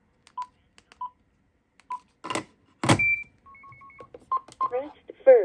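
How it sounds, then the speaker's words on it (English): Short DTMF dialing tones from a Motorola L402C phone handset, several brief beeps in irregular sequence followed by a longer tone train, with a voice talking near the end. "And you can chain dial as usual."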